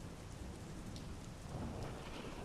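Steady heavy rain pours without a break while low thunder rumbles and swells in the background, a dense, constant wash of sound with no voices.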